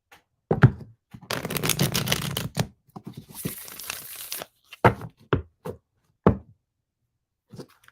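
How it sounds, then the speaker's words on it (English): Cards being shuffled, a couple of bursts of riffling and sliding, followed by scattered soft taps and thumps as the deck is squared, close up. "Something tells me I need to shuffle again, Shammy."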